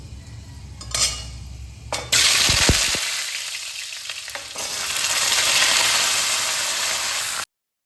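Washed pumpkin pieces dropped into hot oil seasoned with panch phoron for a Bengali pumpkin chutney: a few clinks, then a sudden loud, bright sizzle that stays strong for several seconds, close by, with no talk.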